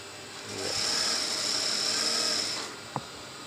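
A sewing machine stitches the folded, pressed hem of palazzo trousers in one steady whirring run of about two seconds, fairly quiet, followed by a single small click.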